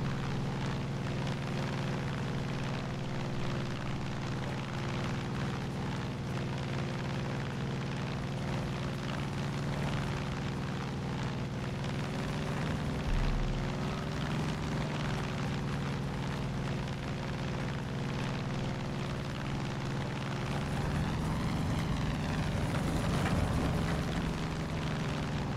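A light propeller airplane flies in Far Cry 5, its engine giving a steady, even drone throughout, with a brief rougher swell of noise toward the end.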